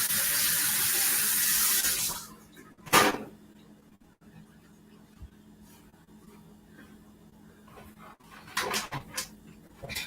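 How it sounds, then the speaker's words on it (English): A tap runs steadily for about two seconds while hands are washed at a kitchen sink, then cuts off, leaving a quiet room with a few soft knocks and clatters. "Wash my hands."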